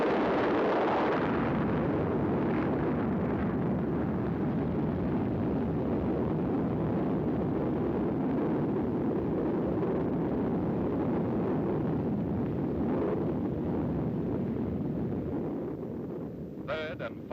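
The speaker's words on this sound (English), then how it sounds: "Yoke blast, second of the test, was successful." Nuclear test blast from Operation Sandstone's Yoke shot: a loud, sustained roaring rumble fills the whole stretch with dense broadband noise, easing slightly toward the end.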